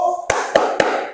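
Group spirit clapping in a classroom, three loud evenly timed claps following a brief moment of voice, close and punchy with quick decays.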